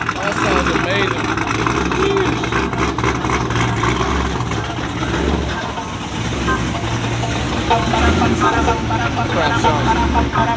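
Several Dodge Viper engines idle and rev at a Cars and Coffee meet in Miami, a loud, rumbling, continuous drone with occasional swells, heard up close.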